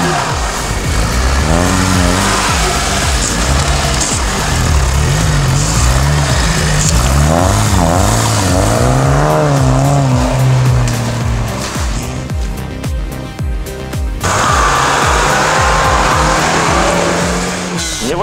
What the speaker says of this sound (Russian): Сейчас заезд у нас, едут Нивы.